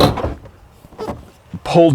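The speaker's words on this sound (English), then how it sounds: "so when the drawer goes in, the last 2 inches glide up on that UHMW" A Jeep drawer slides in on UHMW glides and shuts with a soft knock and latch click, while someone talks over it.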